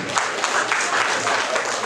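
An audience applauds together at a gathering, a dense, steady wash of clapping lasting a couple of seconds.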